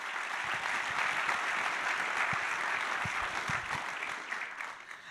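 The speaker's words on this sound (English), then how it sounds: "Round of applause, please, for Dean Cooper." An audience claps steadily at the launch event for an energy transition outlook: a sustained, moderately faint wash of applause from a crowd in a hall that tapers slightly toward the end.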